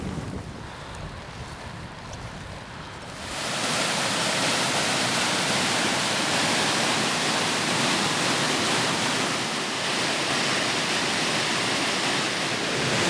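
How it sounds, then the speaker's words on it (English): River water pours steadily over a weir on the River Derwent, a loud, unbroken rushing roar that surges in abruptly after a quieter windy opening and then holds close and constant. "just downriver from the house itself are a couple of sets of weirs"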